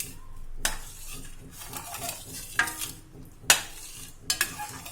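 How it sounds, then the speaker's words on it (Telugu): A spoon stirs jaggery syrup mixed with lemon juice and cardamom powder in a metal vessel while making jangri. Slow scraping strokes are broken by a few sharp, close clinks against the pot, and no one speaks. "వీటన్నింటినీ బాగా మిక్స్ చేసుకోవాలి"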